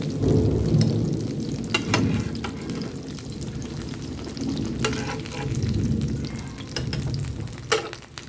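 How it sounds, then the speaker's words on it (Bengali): Rohu fish pieces fry in hot oil in a pan with a dense, continuous close sizzle and crackle, broken by scattered sharp pops and spatters, heard alone with no talk. "এপিট ওপিট করে ভাজলে হবে না, একটু ভেজে নিতে হবে"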